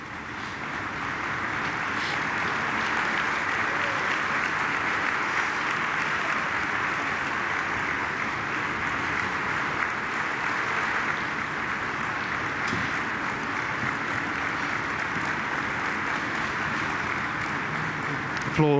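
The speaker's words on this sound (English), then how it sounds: "Applause from the Polish president there." Sustained applause from an audience including the Polish president at a memorial ceremony, a steady dense wash of clapping lasting throughout, with a faint background murmur.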